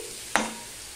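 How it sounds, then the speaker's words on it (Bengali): A single quick scrape of a spatula through kohlrabi curry sautéing with sugar in a pan, followed by a faint, steady sizzle. "দেখো চিনি দিয়ে আমি আর একটু কষিয়ে নিয়েছি।"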